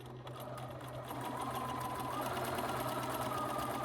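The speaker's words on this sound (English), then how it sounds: "you're going to sew down from the top of the ear to the fold on both sides" A sewing machine stitching a fabric bunny bag runs in one continuous, steady whirring hum that swells slightly partway through, heard on its own and fairly close.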